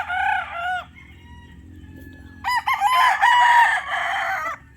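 A bulik sweater gamecock crows twice nearby, a short call followed by a longer, loud drawn-out crow.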